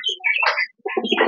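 Racing pigeons kept at a club loft coo close by, with two short bursts of soft, throaty calls separated by a brief pause.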